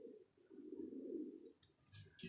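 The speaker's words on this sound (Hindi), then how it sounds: "पेंगा कबूतर पकड़ा है मैंने आज" A captured high-flyer pigeon with double green markings coos in a low, drawn-out throaty call close by, followed by faint higher chirps and a brief rustle.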